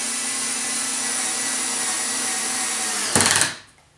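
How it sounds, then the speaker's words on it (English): Ryobi TEK4 cordless screwdriver driving a screw into a pre-drilled 2x4, a steady high motor whine that strains briefly as the screw seats, then cuts off and fades to quiet. "if you happen to have 2x4s that you want to drill into, here it's pre-drilled, but not countersunk"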